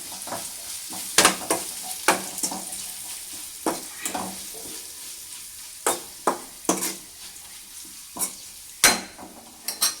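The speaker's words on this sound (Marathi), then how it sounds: "नंतर कांदा लसूण, हे सगळं असं मिक्स करून घ्यायचं." Onion and garlic sizzle while frying in a pan for a spicy capsicum curry, with steady frying hiss and repeated scraping stirs and clinks of a spoon against the pan, close up.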